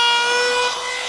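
A router cuts into a wooden kitchen cabinet door, a loud sustained high-pitched whine with dense harmonic ringing that holds steady for about a second, no voices.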